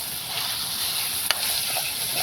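Fenugreek leaf curry cooking with masala in oil, a steady low sizzle and frying hiss throughout with one sharp clink of a utensil midway, close and without talk.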